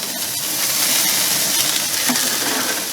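Tomahawk steak sears on a barbecue grill, giving off a continuous loud sizzle and hiss with faint crackles throughout and no voices.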